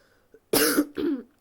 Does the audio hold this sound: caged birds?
no